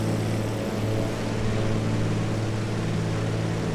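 A DHC-2 Beaver's propeller engine drones steadily in flight in Flight Simulator 2020, loud and close, with strong constant low harmonics and no break across the stretch.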